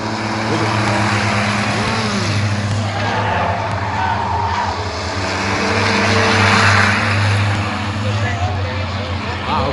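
Race cars lapping Hudson Speedway, heard as a replayed recording: steady loud engine drone with tonal whine, swelling and fading as cars pass, while people talk over it.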